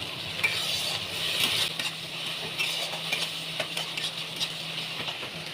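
Green chilli and ginger paste stirred in a hot pan, repeated scraping strokes of a spatula over a low sizzle, close and moderately loud, with no voices.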